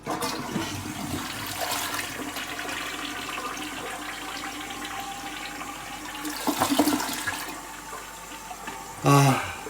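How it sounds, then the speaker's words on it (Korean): A toilet flushing after being unclogged of a lodged toothpaste tube, water rushing and gurgling down the bowl with a surge of swirling flow, close and clear, ending in a short knock. "자, 그럼 다시 한번 물을 내려볼까요?"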